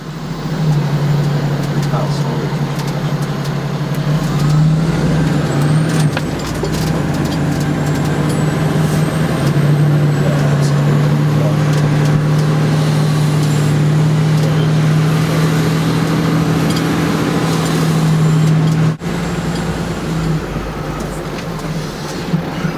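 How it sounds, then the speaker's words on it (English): A large fire truck, 47 by 11 feet, drives and turns through a residential neighborhood with a steady, loud engine rumble and road noise throughout. A brief knock comes late in the run. "This truck is 47 by 11 feet. It can make sharp turns, but it sticks out at both ends."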